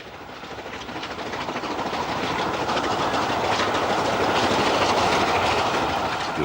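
Stanier Pacific steam locomotive City of Bristol charging through Garstang, a loud, steadily building roar of rolling wheels and rhythmic clatter from passing carriages, close by with no talk.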